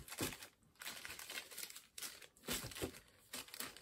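Plastic bags holding game cards crinkle and rustle up close in repeated bursts. The handling is quiet but crisp, with short pauses between crumples.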